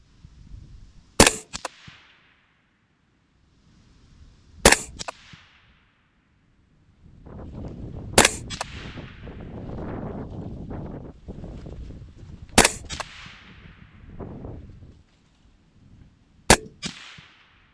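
Five sharp AR rifle gunshots ring out at a target during a battle zero, spaced a few seconds apart, each a loud crack with a short decay, over steady outdoor wind noise.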